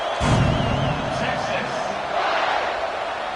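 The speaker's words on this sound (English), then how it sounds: "this crowd is buzzing after that last score" A dense football stadium crowd buzzes and roars after a score at an Auburn versus Texas game, a broad continuous wash of cheering noise with distant whoops rising and falling.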